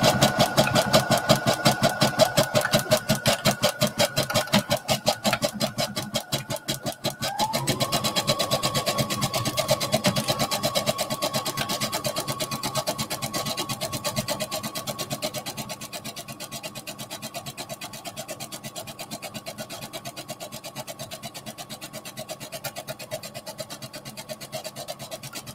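A sewing machine zigzag-stitching a sports bra runs steadily and close, its fast needle rhythm continuous throughout, slowing briefly midway before picking back up with a slightly quieter hum.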